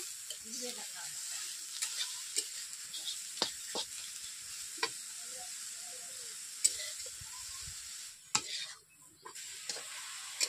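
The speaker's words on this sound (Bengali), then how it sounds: "এভাবে খুন্তি দিয়ে আমি মেলে নিচ্ছি।" Susni greens frying with a little salt, spread and stirred with a metal spatula; a soft, steady sizzle runs throughout, broken by repeated sharp scrapes and taps of the spatula against the pan, close and fairly quiet.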